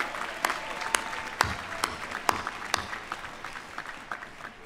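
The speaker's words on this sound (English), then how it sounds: "Please join me in a round of applause for them, as well as for the members of the Army ROTC program." Scattered, sparse applause for the Army band and ROTC members at a university final exercises ceremony, with distinct individual claps popping out of a thin, spread-out crowd at moderate distance.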